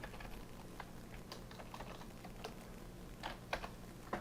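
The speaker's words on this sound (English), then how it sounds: "If I can type correctly, it would help." Quiet, uneven tapping on a computer keyboard, with scattered key clicks and a few sharper strikes near the end over a low background hum.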